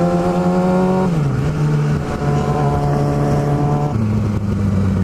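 Sport bike engines drone steadily while riding on a long highway trip, a loud, close, sustained tone that drops in pitch twice as the rider eases off, with wind noise throughout.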